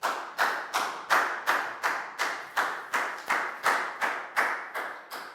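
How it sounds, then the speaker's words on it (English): About fourteen evenly spaced claps ring out in a Year 4 maths class, each a crisp slap that decays quickly, close and fairly loud with no talk over them, as students applaud a classmate. "Big round of applause for Nadia,"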